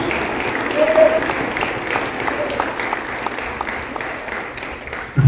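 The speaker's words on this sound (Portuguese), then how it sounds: "vou dar uma salva de palmas para Jesus" A church congregation claps together in applause, a dense rolling patter that swells and holds steady, heard from within the room with a few voices mixed in.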